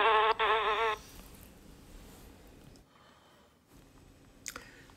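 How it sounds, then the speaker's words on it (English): A yellow jacket, a type of German wasp, gives a loud, close buzz lasting about a second at the start, then falls away into quiet background. "It's a nasty little yellow jacket, a type of German wasp"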